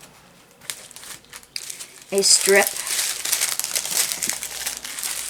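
A plastic bag from a diamond painting sparkle kit crinkles and rustles up close, starting faintly and becoming loud and continuous through the second half, with a voice talking over it.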